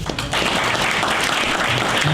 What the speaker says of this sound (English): Let's give a round of applause to that lady.